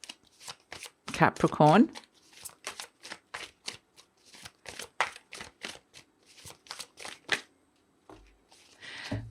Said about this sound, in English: I'm going to pull a fairy card for you